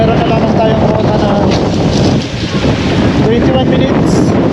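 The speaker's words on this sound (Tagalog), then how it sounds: "kasi lakas yung hangin ngayon" Strong wind from Tropical Storm Koto roars across a mountain peak, buffeting the microphone in a loud, continuous rush with slight dips.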